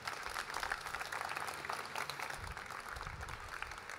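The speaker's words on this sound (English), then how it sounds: "Let's have a round of applause for Stephan Sahm." Brief burst of audience applause after a JuliaCon 2024 conference talk, many hands clapping in a dense patter that thins slightly toward the end.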